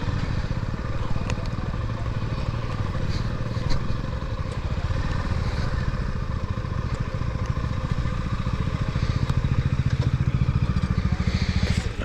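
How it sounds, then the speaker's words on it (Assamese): A motorcycle is ridden into a restaurant during an Independence Day bike ride, its engine giving a steady, close, throbbing rumble for about twelve seconds that grows slightly louder toward the end. "ইয়াতে সোমোৱাই দিওঁ আৰু বাইকখন"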